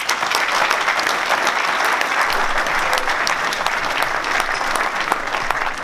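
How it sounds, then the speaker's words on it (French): Strong, steady applause from an audience at a presentation of the 21st Nuits-Saint-Georges half-marathon, dense clapping sustained evenly without a break and with no speech over it. "je vous demande de l'applaudir très fort, notre ami Dominique Brouillot"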